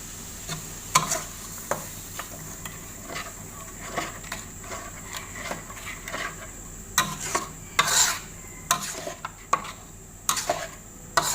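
Shrimp paste is stirred into coconut milk in a bowl, a soft swishing broken by irregular light clinks of a spoon against the sides, close up and fairly quiet, with no talking.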